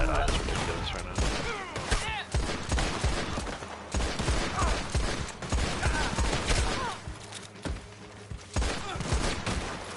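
Gunfire in the Red Dead Online video game, aimed at a small spiked barricade: dense, rapid volleys of shots that overlap in a loud, continuous fusillade with mechanical clicks between bursts.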